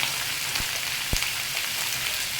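Mixed vegetables seasoned with salt fry in hot oil, producing a steady close-up hiss and crackle with a couple of faint knocks in the background.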